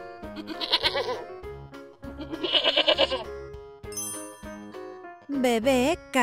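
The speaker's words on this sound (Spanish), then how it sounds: "Papá cabra." A male goat gives loud, quavering bleats in separate bursts over background music with light chimes, ending in a rising, wavering cry.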